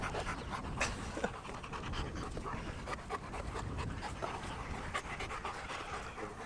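Several Labrador dogs pant continuously close by, a dense, fast, breathy rhythm of overlapping huffs at a fairly soft level, with no talking.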